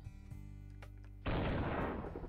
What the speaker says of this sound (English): I need that sound effect, that explosion, whenever I delete code.